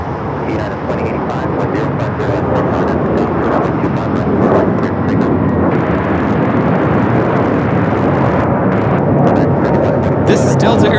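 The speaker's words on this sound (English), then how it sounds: "This is Delta Airlines 811 taking off to Miami, Florida on the A321neo." A Delta Airlines Airbus A321neo jet takes off from LAX, a loud, sustained broadband engine roar that holds steady throughout at close range.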